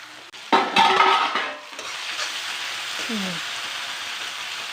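Chopped tomato drops into hot oil with a loud splashing clatter, then settles into a steady, close sizzle; a voice speaks briefly over the frying.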